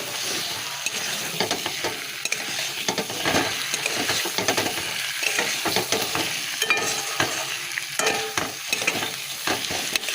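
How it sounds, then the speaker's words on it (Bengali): Steady sizzling of potatoes stir-frying in a pan, with repeated scraping and stirring strokes throughout. "এই আলুগুলো দিয়ে ভালো করে কষাবো"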